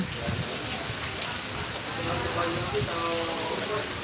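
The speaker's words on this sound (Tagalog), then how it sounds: "Maulan talaga, maulan." Heavy rain falls steadily in Lucban, Quezon, a dense, constant hiss of drops on surfaces that fills the whole stretch, with faint voices murmuring underneath.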